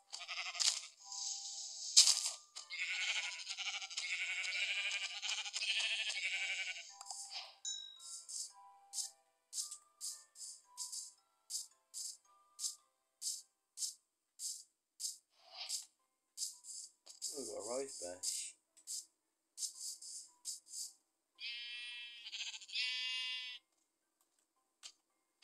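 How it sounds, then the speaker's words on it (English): A Minecraft sheep bleats once in a short wavering cry midway through. The rest of the game audio is a rapid run of clicky block-breaking and item sounds, with brief bursts of other game noise at the start and near the end. "Oh, we've got a sheep."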